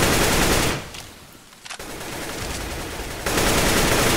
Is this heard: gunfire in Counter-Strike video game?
yes